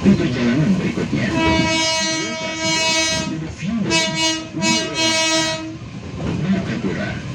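A KA Rajabasa commuter train runs into Martapura Station in Indonesia, with a long sustained horn blast over steady rumbling and the clatter of the railcars. A brief voice cuts in near the middle of the horn.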